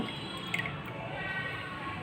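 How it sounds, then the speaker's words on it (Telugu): Water pours steadily into a container of chana dal to soak it, a continuous close rushing, trickling stream with a small splash near the middle and no talk. "నేనైతే వాటర్ పోస్తున్నాను చెనగపప్పులో"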